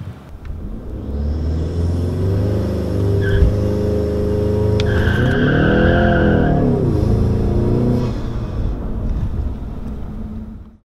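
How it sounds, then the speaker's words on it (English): Ford EcoBoost Mustang held on its transmission brake and bumped forward, a loud close engine drone that swells as revs rise and fall in a smooth arc midway, then settles and cuts off. "and that's going to bump the car forward."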